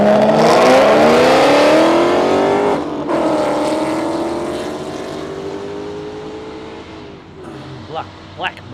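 Mustang drag car with a 408 cubic inch stroker engine and manual gearbox launching on a no-prep airstrip, a loud roaring engine climbing in pitch through gear changes and fading into the distance.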